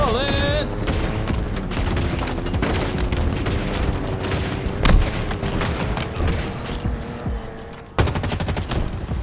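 Rapid, dense gunfire from a Halo multiplayer match crackles nearly nonstop, with overlapping bursts and a heavier thump midway, loud and close throughout.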